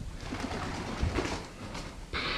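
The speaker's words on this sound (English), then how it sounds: "birds in here." Pigeons coo softly inside a derelict former orphanage and hospital, low murmuring calls repeating a few times over a hissy, echoing indoor background with no speech.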